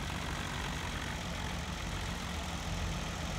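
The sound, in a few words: tractor engine idling in the video game Farming Simulator 2017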